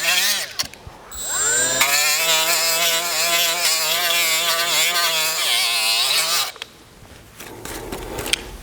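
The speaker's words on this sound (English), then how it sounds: "I've put one of those abrasive wheels on the end of my Milwaukee Tools 90-degree die grinder" A Milwaukee 90-degree die grinder fitted with an abrasive wheel grinds corrosion off a Chrysler 3.2/3.6 coolant pipe fitting, a loud, steady high-pitched whine for several seconds that spins up sharply and then winds down.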